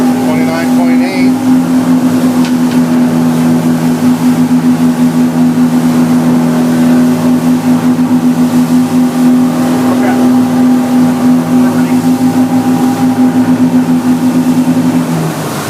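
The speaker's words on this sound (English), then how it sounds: "I just wanted to give a little short run, show the boat running" A 2007 Glacier Bay 3070 boat runs at about 30 mph on a sea trial, its engines giving a loud, steady drone with a constant low hum throughout and water rushing underneath. No one speaks.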